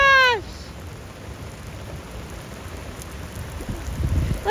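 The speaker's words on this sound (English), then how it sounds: "Those are huge raindrops" Heavy rain with huge raindrops pours steadily outdoors in Palm Beach, Florida, a constant close hiss that thickens toward the end, after a brief tonal chirp at the start.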